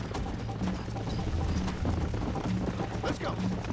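Horse hooves clip-clop at a gallop in the Red Dead Redemption video game, a steady rhythmic pounding heard near and loud under game music and voices.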